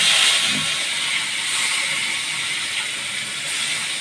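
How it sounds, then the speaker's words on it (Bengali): Fish pieces rubbed with salt and turmeric fry in hot oil in a home kitchen, giving off a continuous loud sizzling hiss that stays fairly even from start to finish, with no talking. "এবার তেল গরম হচ্ছে, ভাজতে দিলাম।"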